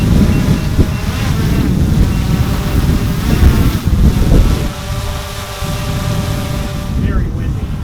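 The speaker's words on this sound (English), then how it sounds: "Very windy." Strong gusty wind buffets an outdoor microphone in a steady loud roar with rumbling bursts, during a test flight of a drone fitted with a cheap add-on light.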